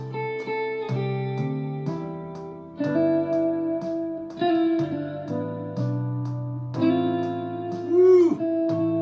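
Electric guitar strumming a sequence of chords, each with a 6/5 suspension resolving to the plain chord, sustained and ringing with a slight effect, ending on a bent, wavering note.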